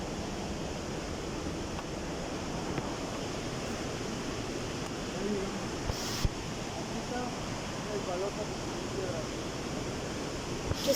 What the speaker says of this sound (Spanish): Aquí están las cascadas.